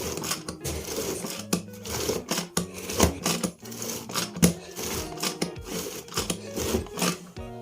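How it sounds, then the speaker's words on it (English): An electric mixer-chopper runs through tomatoes and onions, a steady buzzing motor with rapid, choppy rattling pulses at close range, with no voices. "Again, I'm just going to use the mixer."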